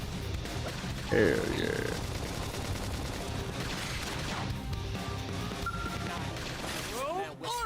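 Combat in the Xenoblade Chronicles X video game: a burst of impact and explosion effects as a flame grenade goes off, followed by rapid attack hits, with a person talking over the action.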